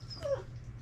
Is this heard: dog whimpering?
yes